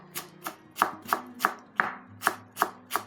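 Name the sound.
chopping fresh herbs (cilantro) with a knife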